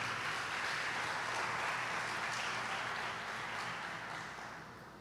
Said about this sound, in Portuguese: Dá um aplauso a Jesus Cristo de Nazaré